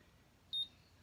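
A Conair Infinity automatic hair curler gives a single short, high electronic beep against quiet room background.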